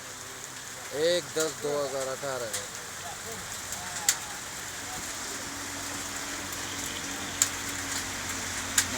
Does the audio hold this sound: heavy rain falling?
yes